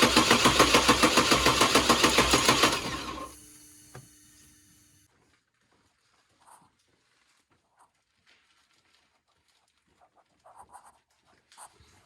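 Crew cab truck engine cranked by a very loud starter, a rapid pulsing grind that runs for about three seconds, then cuts out and leaves near-silence with a few faint clicks and small sounds afterward.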